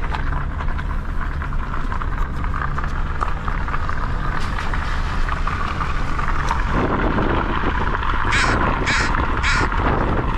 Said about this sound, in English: And the crows are here.